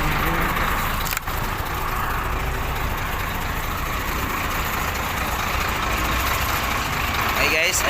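A truck engine idles at a quarry at night with a loud, steady low rumble that stays constant throughout, while someone talks nearby.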